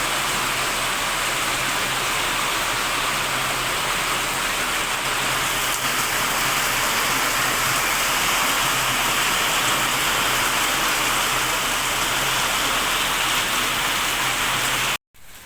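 Heavy rain pours steadily for a long stretch, a dense, loud, even roar of water on surfaces and fields, with no voices, cutting off abruptly at the end.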